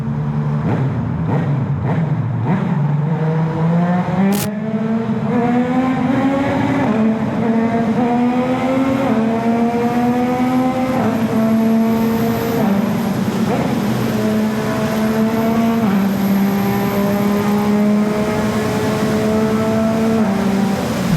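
A Yamaha MT-09 SP sport motorcycle's engine and exhaust roar steadily inside a tunnel, pitch climbing through repeated gear shifts, loud and close throughout.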